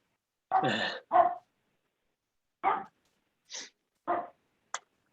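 A dog barks intermittently during an online meeting, with six separate short yaps and woofs spread over five seconds, sounding fairly close against an otherwise quiet background.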